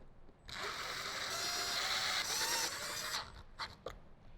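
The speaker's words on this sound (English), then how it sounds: "Then we'll go ahead and screw those down." A power driver runs a machine screw down through a Jeep JL speaker mount, a steady whirring buzz lasting nearly three seconds, then a few short bursts as the screw seats, close and alone.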